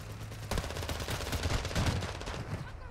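Gunfire in a Call of Duty Zombie Royale match, a dense burst of rapid shots starting about half a second in and rattling on loudly to the end.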